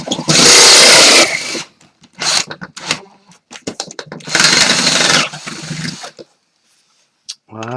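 A drill boring a 16 mm hole in a metal enclosure whines loudly in two long bursts, broken by short stop-start spurts and quiet gaps.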